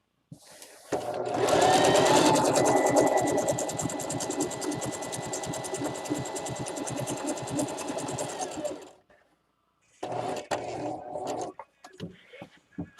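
A sewing machine runs steadily for several seconds stitching fabric for an Easter basket, loud and close, then stops and gives a shorter burst after a brief pause.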